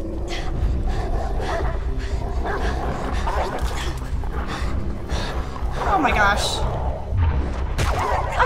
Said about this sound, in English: I'm fighting a dog!